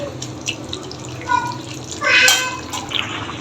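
Water is poured into a pan of simmering bottle gourd curry, a steady splashing pour that swells midway, close and fairly loud over low kitchen background noise.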